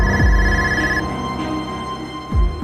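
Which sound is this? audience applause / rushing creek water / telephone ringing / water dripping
telephone ringing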